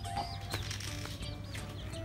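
Several chickens cluck close by in short, overlapping calls over a low steady hum.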